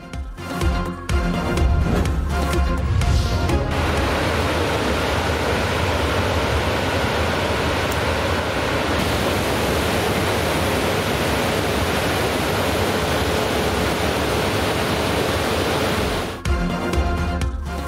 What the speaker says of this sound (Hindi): तुग़यानी के बायस नहर टूट गई, पानी सड़क की तरफ बढ़ने लगा।